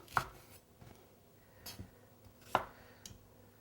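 Knife chopping an onion into big quarters on a board for roasted vegetables: a few sharp, separate thunks spaced out, fairly close and moderate in loudness, with quiet pauses between cuts.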